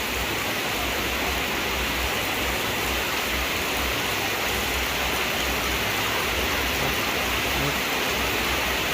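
Steady rain at an elephant's enclosure hisses continuously, a dense even wash of noise with no pauses, fairly soft and unbroken throughout.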